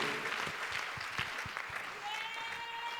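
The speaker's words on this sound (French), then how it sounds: "Applaudis très bien pour le Seigneur des Seigneurs" A congregation at a Friday mass prayer meeting claps in quick, rhythmic bursts while a voice carries on over the applause.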